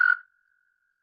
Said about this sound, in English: a toad would sound like.